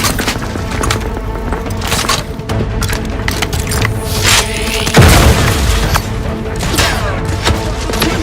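A grenade goes off in the video game The Outer Worlds 2 amid gunfire, a deep booming blast near the middle within a loud, busy combat mix.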